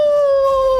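A sustained wolf howl from a hero's transformation in the Mobile Legends video game, a single clear, loud tonal cry that holds nearly steady and slides slightly downward, heard alone.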